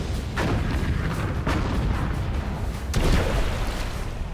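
Heavy naval guns of British warships firing at sea, a few deep booms spaced about a second or more apart, loud and rumbling with no talk.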